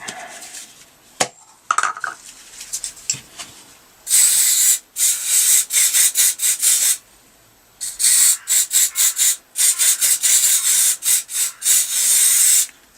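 Bursts of carburetor cleaner spray into a 1983 Yamaha RS125DX carburetor, hissing in short repeated blasts, some long and some choppy, with quiet pauses and a few clicks between them.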